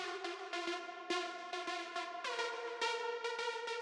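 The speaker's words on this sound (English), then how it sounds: "So it's kind of a ping pong delay" Midtempo bass music synth with a gatekeeper preset and ping pong delay, rhythmic chopped chord stabs pulsing in a steady pattern, moderately quiet with no voices.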